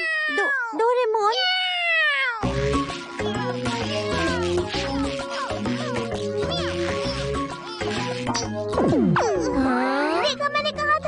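The cartoon robot cat Doraemon meows and caterwauls like a cat in a voiced imitation, bouncing pitch-sliding yowls over lively cartoon music, ending in a long wailing rise.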